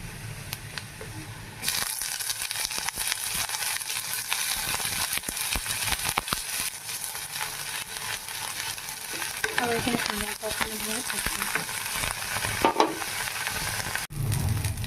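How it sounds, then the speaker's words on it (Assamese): Jackfruit seeds and fish fry together in a pan in an Assamese home kitchen, giving a continuous close sizzle with scattered spatters and utensil scrapes for most of the stretch, without speech. "অকণমান ভাজি পেলাই আৰু ইয়াতে মাছখিনি দি দিম"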